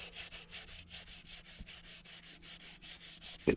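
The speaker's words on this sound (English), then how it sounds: "just started wet sanding" Wet sanding of plastic interior trim in a Mercedes W124 with 400 grit paper: quiet, rhythmic back-and-forth rubbing strokes, roughly three per second, close up, ending with a brief louder knock.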